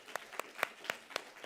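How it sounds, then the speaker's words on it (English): A student-government meeting gives the clerks a small, faint round of applause: five or six separate, evenly spaced hand claps, sparse and quiet. "So just, can we give a little bit of a round of applause?"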